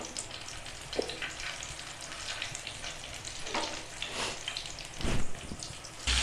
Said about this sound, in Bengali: পেটিগুলোকে আমি উল্টিয়ে পাল্টিয়ে লাল লাল করে ভেজে নিয়েছি।